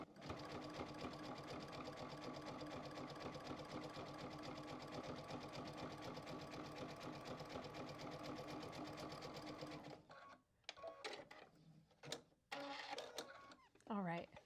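A sewing machine runs continuously, stitching straight and zigzag stitches through quilted fabric for a backpack zipper gusset, giving a steady close mechanical whir that stops partway through, followed by a few clicks and a brief voice.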